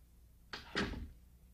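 A door shutting in a Hello Kitty cartoon home, heard as two quick close knocks, a light latch tap followed by a firmer thud, alone with no talk.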